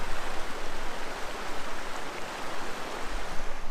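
Water from a mountain creek along a Colorado Rocky Mountain trail rushes in a steady, broadband wash, close and fairly loud, with no pauses or voices.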